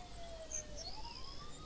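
A police car siren wails faintly in the Thief Simulator video game, its rising and falling tone fading as the car drives away.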